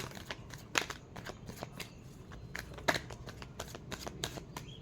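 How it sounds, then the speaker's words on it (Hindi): Tarot cards are shuffled close by in a rapid run of crisp riffling bursts and flutters, repeating irregularly for several seconds in a quiet room. "मैं कार्ड शफल कर लेती हूँ"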